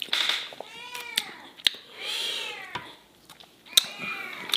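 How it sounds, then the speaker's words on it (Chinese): A cat meows repeatedly nearby, several drawn-out, rising and falling cries separated by short pauses, mixed with a few sharp clicks and knocks from kitchen work. "头上剩一点给猫，兄弟兄弟别叫了啊"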